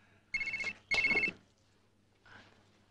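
A telephone rings twice in quick electronic bursts indoors, loud and close, followed by a fainter partial ring after a pause.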